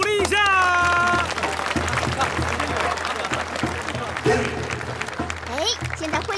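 Audience applause at a martial-arts academy gathering, as a student team is presented to the crowd: a broad, steady wash of clapping lasting throughout, mixed with voices and background music.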